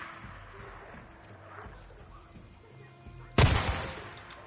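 A single sniper rifle shot in the video game Days Gone, one sharp loud blast with a short tail after a few seconds of quiet low background noise.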